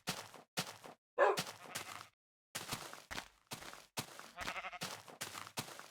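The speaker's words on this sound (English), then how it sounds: "Distracted by the sheep." Sheep in a video game bleat in several short, close bursts separated by brief pauses, standing alone without talk.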